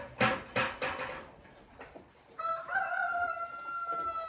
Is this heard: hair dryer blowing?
no